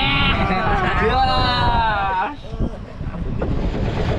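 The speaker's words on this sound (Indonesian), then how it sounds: "Angin kencang ombak besar." Strong gusty wind buffets the microphone over rough, high-wave sea water while fishing, with voices shouting early on before the blustery rumble continues alone.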